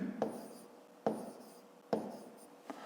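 Numbers are written by hand with pen on paper during a fifth-grade maths exercise, giving soft scratchy strokes with three sharper taps spaced almost a second apart, close and quiet.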